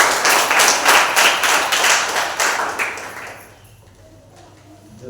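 A congregation at a Sunday church service clapping loudly together in a rhythmic burst for about three seconds before it dies away to quiet room sound.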